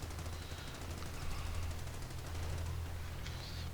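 Machine gun fire in a WWII strategy video game, MG crews shooting at Volksgrenadiers; rapid rattling bursts run continuously under a low rumbling bed of battle noise, moderately distant.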